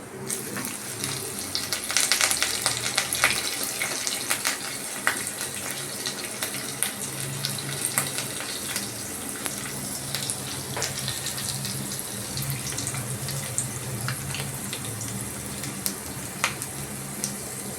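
Green chili dropped into hot oil in a frying pan for a rohu fish and chickpea paste gravy sizzles and spits loudly and steadily, a dense crackling hiss with sharp pops scattered throughout, no voices.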